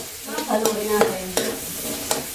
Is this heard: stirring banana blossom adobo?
yes